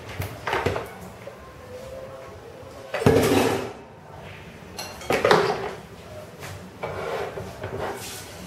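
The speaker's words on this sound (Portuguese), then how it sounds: "Agora a gente vai transferir toda essa massa aqui que a gente bateu para uma bacia" A thick cake batter made with a kilo of wheat flour is scraped and poured into a basin, giving soft scraping and rubbing strokes with a few louder bumps and clatters of the bowl and utensils, close by with no talking.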